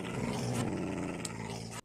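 A dog growls in a dog pen in the Goblins mod for a video game: a close, continuous, rough low snarl that holds for nearly two seconds before cutting off abruptly.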